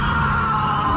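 A young man lets out a strange, frightened scream on opening a fridge, a sustained loud tonal yell held close and steady for the whole second.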